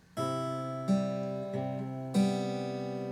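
Fingerpicked acoustic guitar plays open strings from a song melody, four ringing plucks with pairs of strings sounding together, close and clear with no voices.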